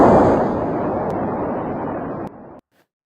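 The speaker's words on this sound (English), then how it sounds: "From the Apollo 11 liftoff" Apollo 11 rocket liftoff: a loud, deep rumbling roar that slowly fades, then drops away abruptly into silence.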